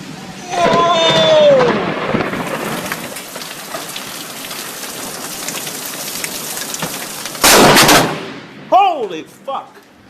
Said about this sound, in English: You know how close that lightning was?